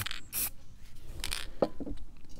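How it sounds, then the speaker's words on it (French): Cheap spray paint can from a hobby store sprays red paint in a few short hissing bursts, with light handling and scraping noises in between, close by and fairly quiet. "Ça c'est la bombe de peinture cheap de chez Cultura."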